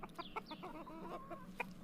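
Chickens clucking in a short burst of repeated, uneven calls at moderate closeness, with no one talking over them.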